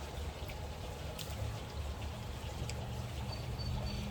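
Water pours and trickles steadily as a small pool water test vial is rinsed out, a continuous close splashing wash with faint clinks and no voice.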